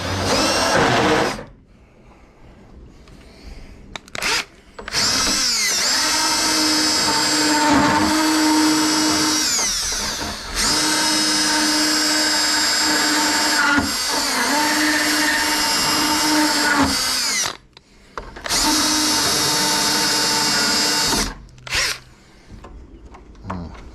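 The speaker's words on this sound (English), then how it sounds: "let's go get the drill" A power drill whirs in several long bursts, revving loudly for seconds at a time, separated by short pauses and faint handling noises.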